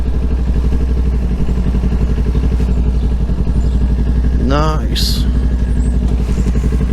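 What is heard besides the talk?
motorcycles riding past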